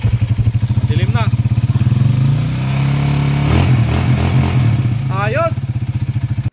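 A motorcycle engine, running very rough before an overhaul, idles with a rough, throbbing rhythm, then revs up sharply and settles back, with brief voices speaking over it.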